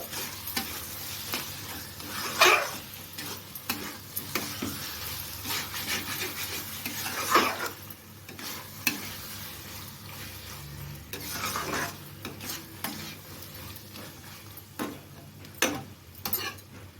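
Cucumber shukto with ghee being stirred in a pan, a steady scraping and rubbing of the spoon against the metal under a soft sizzle, with a few louder clanks, close and with no talk.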